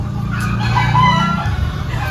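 A rooster crows loudly and close, one drawn-out cock-a-doodle-doo filling the clip with clucking fowl around it.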